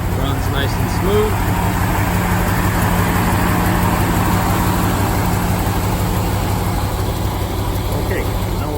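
A 1988 Land Rover 130 Overlander with a V8 engine runs at a steady, smooth idle close by, a constant low rumble throughout.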